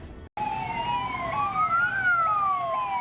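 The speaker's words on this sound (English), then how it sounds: "And an ambulance siren." An ambulance's wailing siren rises and falls in long sweeps, fairly close and loud over a low road rumble.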